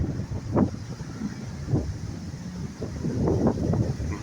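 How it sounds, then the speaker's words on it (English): Wind buffets a microphone outdoors, a low rumbling gust noise that rises and falls in uneven surges, fairly close and fairly loud, with no talking. "I can hear the wind"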